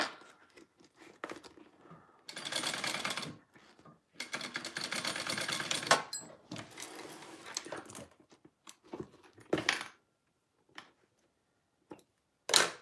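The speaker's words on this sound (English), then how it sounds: "So I'm just going to baste my seam allowance flat along the very top of my bag." Sewing machine basting the seam allowance flat along the top of a Flair crossbody bag, close and moderately loud in several bursts of rapid stitching separated by pauses and small clicks.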